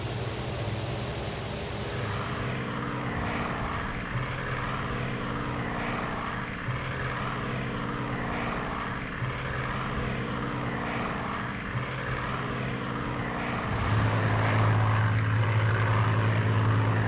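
Piston engines of a Heinkel He-177 bomber roaring at full power in the IL-2 1946 flight game, a loud, steady propeller drone throughout that swells slightly near the end.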